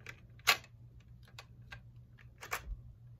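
Dart shells for a Nerf Shellstrike DS-6 blaster are pushed into place. Several small, sharp plastic clicks and ticks sound close by in a quiet room, with the strongest click near the start and another near the end.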